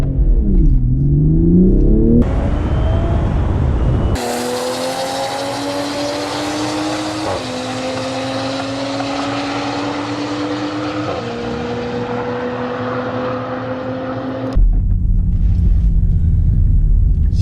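A stock A90 GR Supra or stock BMW M2 launches hard on a drag strip with launch control and soft suspension, the engine roaring loudly up through the revs with two quick gear shifts before dropping back to a rumble.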